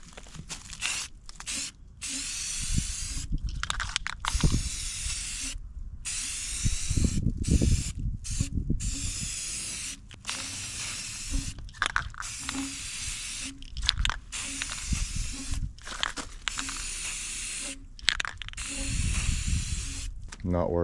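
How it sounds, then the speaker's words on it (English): Rattle-can spray paint hissing in repeated bursts as a final coat goes onto a DIY truck camper frame mount, short sprays separated by brief pauses, close and fairly loud with some background noise. "While I got it out here and some paint, I'm just gonna put one more final coat on that guy too."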